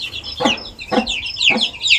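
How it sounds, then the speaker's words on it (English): A black hen clucks repeatedly on a rural Maasai-area chicken farm in Kenya, three sharp, fairly close bursts of agitated calls roughly half a second apart, with higher chirping from young chicks running throughout. "you can hear the black hen making noise because it's trying to chase it away"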